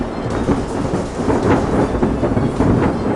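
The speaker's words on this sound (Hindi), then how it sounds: "तूफान लगातार भयंकर रूप लेता जा रहा होता है" A thunderstorm rumbles in an animated story, with deep rolling thunder and heavy rain filling the scene as a loud, continuous roar that swells in waves and has no voices over it.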